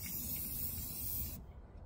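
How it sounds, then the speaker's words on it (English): A steady, loud hiss of a Rust-Oleum spray paint can for over a second, then it cuts off abruptly into near silence. "Rust-Oleum will let you use their spray paint cans upside down and they still spray."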